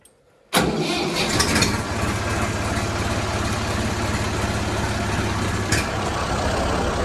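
An old vehicle's engine cranks and catches after new period fuel filters were fitted, then settles into a steady rumbling idle close by, with a brief rev partway through.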